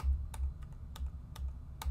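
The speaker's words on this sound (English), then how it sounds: "I'm just pressing the right arrow key on the keyboard." Arrow key on a computer keyboard pressed repeatedly while adjusting a mask in Final Cut Pro X: five sharp, evenly spaced clicks about every half second, close and clear over a low hum, with no talking.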